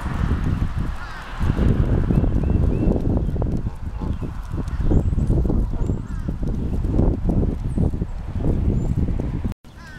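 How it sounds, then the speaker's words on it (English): Tame geese wandering close by in a city park, giving loose honks and calls over a steady outdoor background, with no one speaking. "Got some tame geese just kind of wandering by."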